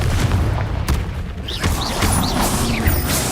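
Spell blasts from the Confringo fire spell in the Hogwarts Legacy video game: a string of dense booming impacts with crackling bursts and mechanical whooshes, loud and continuous over about three seconds with no talk.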